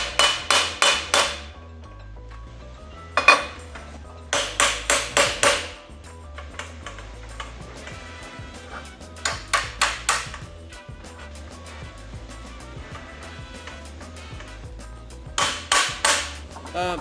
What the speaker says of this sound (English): So I basically just got this thing back sitting flat on the table and just beat it down until it's flat again.